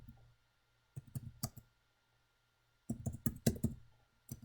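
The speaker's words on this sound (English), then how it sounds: "So let's start typing these things in." Two short bursts of rapid keyboard typing, clicky keystrokes close up, separated by a quiet pause, with no voices.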